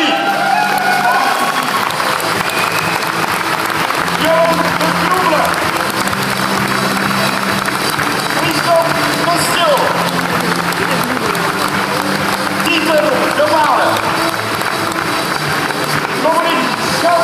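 Dense, continuous crowd applause at an award ceremony, loud and steady throughout, with scattered cheers and voices woven through the clapping.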